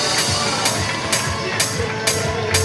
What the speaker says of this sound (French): Sous vos applaudissements, Salomé de Barthez.